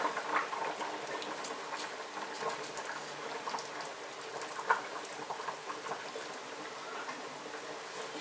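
Thick cottage pie sauce simmering in a pan gives a soft, steady bubbling patter with irregular small pops and one sharper blip midway, faint and close.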